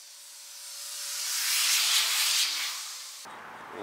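Protective coating sprayed onto a brake caliper bracket of a 2003 Toyota Corolla: a single steady hiss that swells over a few seconds, then cuts off abruptly, close and fairly loud with no speech.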